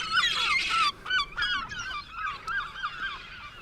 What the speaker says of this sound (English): Bloody seagulls!